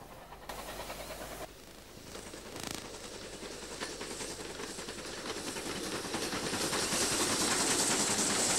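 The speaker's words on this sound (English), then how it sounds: "Great Western tank engine heads down into Newtondale." A Great Western steam tank engine chuffs and hisses at a distance in Newtondale, growing gradually louder as it approaches, with rhythmic clatter from the wheels.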